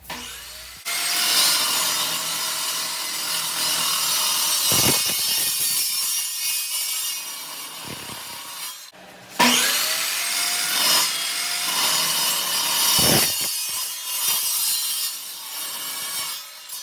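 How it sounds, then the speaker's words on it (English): A handheld bandsaw mounted to a tabletop cuts steel table legs: a steady, close grinding and whining drone over two long passes, with brief pauses between them and no talk. "a handheld bandsaw that was mounted to a tabletop"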